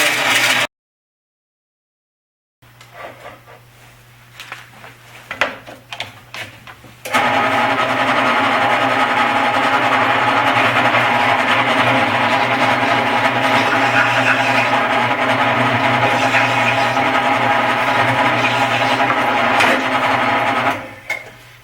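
Wood lathe spinning a pen blank while a carbide cutter trims it, a loud steady whirring hum with a constant low tone, preceded by brief silence and softer intermittent scraping before the motor runs continuously.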